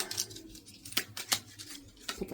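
Crisp, rapid papery snaps in short bursts, a deck of cards being shuffled close by, with quiet pauses between riffles.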